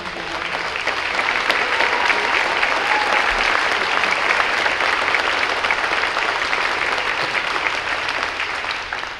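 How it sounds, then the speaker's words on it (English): A school spring pops concert audience applauds the co-chairs with sustained, even clapping from a large crowd that swells and then holds steady across the whole stretch. "Can you please give a round of applause to Lydia and Matthew?"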